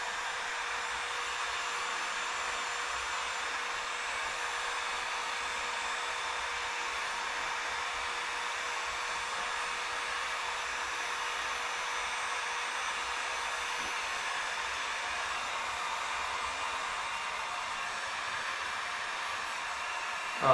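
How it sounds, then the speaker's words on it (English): A heat gun blows steadily while warming the edges of new bike graphics, giving a constant, even airflow hiss at close range that holds without a break throughout, with no talking. "Mainly want to do the heat gun around the edges so the edges don't come up."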